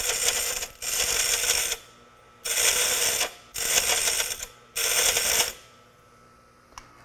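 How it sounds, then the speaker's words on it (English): Pedestal grinder wheel grinding a piece of metal pressed against it, four loud sustained bursts of harsh hissing grind, each about a second long, separated by short quiet gaps, close and alone. "run it back and forth against the wheel. So we're going to turn it on at full speed"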